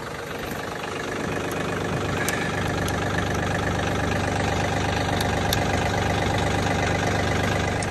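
Tractor engine idling on a farm food plot, a loud, close, continuous low rumble with a steady knocking throb that starts slightly quieter and settles into an even drone.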